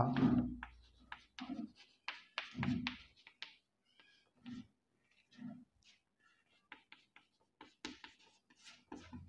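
Chalk scratches and taps in short bursts across a board during a maths lesson, quiet close strokes separated by pauses.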